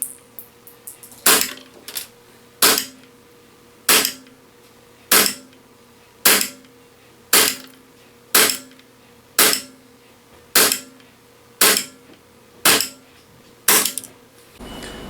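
A WE Galaxy G Series airsoft pistol fires single shots at a steady pace, about twelve evenly spaced sharp cracks, each followed by a short metallic clack, loud and close, with no talking.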